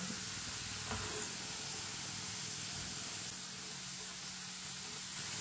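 French fries frying in hot oil as a spoon stirs them, a steady soft hiss and sizzle running continuously, fairly quiet and close.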